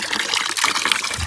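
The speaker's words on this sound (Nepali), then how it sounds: "म चाहिँ यहाँबाट पानी भर्छु" Water pouring and splashing into a gagri water pot, a steady gushing fill lasting just over a second with no voices over it.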